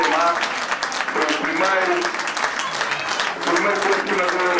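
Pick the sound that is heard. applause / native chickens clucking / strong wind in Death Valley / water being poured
applause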